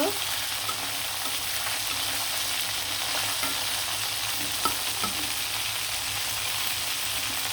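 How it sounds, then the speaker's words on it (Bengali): Chicken leg pieces fry in a pan until browned and red, giving a steady, close, dense sizzle that runs unbroken throughout, with a few faint clicks of stirring and no voices. "উঠিয়ে নেওয়ার পর আবার সুন্দরভাবে অপর পিঠটা দিয়েও ভেজে নিব"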